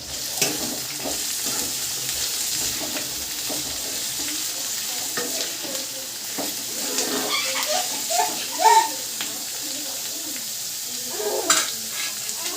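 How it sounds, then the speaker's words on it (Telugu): Taro leaf tomato curry with green chillies being stirred in a pan, a soft continuous sizzle with scraping stirring strokes, fairly quiet, with faint birdsong in the background. "ఒకసారి అన్నీ మిక్స్ చేసుకోవాలి"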